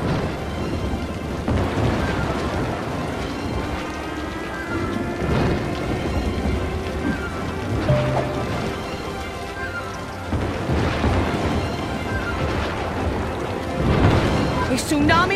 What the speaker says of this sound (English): A thunderstorm is battering the city.